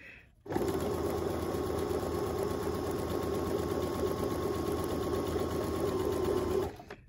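A sewing machine stitching fabric for a face mask runs in one steady, unbroken burst of rapid mechanical whirring for about six seconds, close and loud, then stops abruptly.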